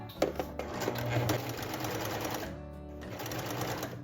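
A sewing machine runs steadily up close while stitching a dress seam, its rapid mechanical whir and needle clatter continuous for several seconds, with a few sharp clicks at the start.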